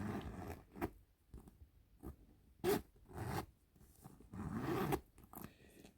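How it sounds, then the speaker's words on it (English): The zipper of a Coach Rowan handbag is pulled open and closed several times, short rasping bursts separated by brief pauses, close up and fairly quiet. "I did play with the zipper in the store"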